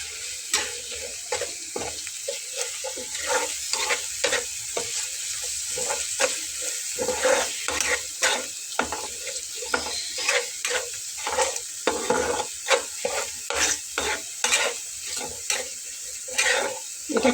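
Spices with red chilli powder stir-fried lightly in a pan: rhythmic scraping stirs of a spatula over a soft sizzle, close and clear, growing more regular toward the end, no talk.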